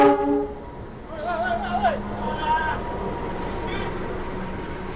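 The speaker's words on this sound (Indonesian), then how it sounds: "Oh, ini kereta Argo Merbabu." The Argo Merbabu passenger train pulls into a station, sounding a couple of short horn blasts over a low rolling rumble, while someone nearby talks.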